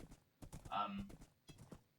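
Hooves clip-clop from a horse in the video game Minecraft, a quick run of soft hoof beats with brief game sounds, and a person talks on either side of it.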